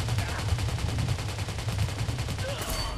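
Rapid automatic gunfire in the mobile shooter game Rider Six, a dense fast stream of shots running steadily throughout, loud and close, with no speech over it.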